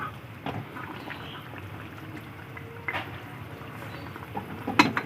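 Rui fish curry with potato and potol stirred in a pot, with soft scraping and liquid bubbling at a low level and a few sharper clinks and knocks of the spoon against the pot.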